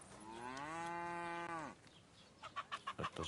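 In the Kingdom Come Deliverance 2 game, a long cow moo sounds first, then a quick run of soft, rhythmic chicken clucks near a coop, faint and without talk.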